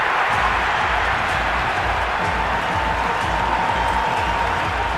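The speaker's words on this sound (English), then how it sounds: "the crowd have joined the party. It's pretty noisy at the ground" Stadium crowd cheering in an IPL cricket video game, a loud, steady roar of massed voices and applause filling the ground without a break.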